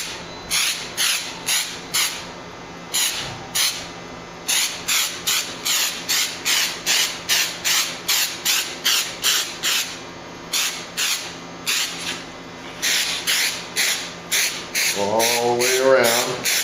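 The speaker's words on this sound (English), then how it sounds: "Give it a good spray." An aerosol spray can coating a weeping angel Christmas tree topper with paint, heard as a steady series of short, close hissing bursts in an even rhythm, with a brief voice near the end.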